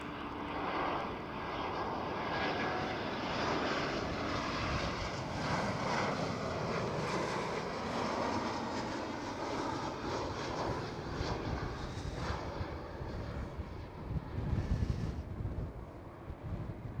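German Airways Embraer E190 jet at Schiphol, a steady rumbling engine roar with wind buffeting, moderately loud and continuous, fluctuating toward the end, with no talk.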